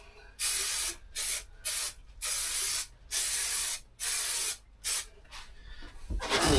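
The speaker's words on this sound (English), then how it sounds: "I'm going to spray the panel." Adhesive sprays onto a van panel for insulation in about eight loud, close hissing bursts of varying length separated by short pauses, with no talking.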